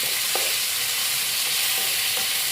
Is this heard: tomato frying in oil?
yes